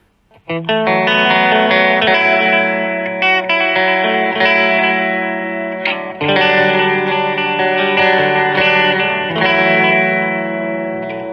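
An electric guitar plays sustained chords through a Vox VX15GT amp with a delay effect, repeats trailing behind each strum, loud and alone.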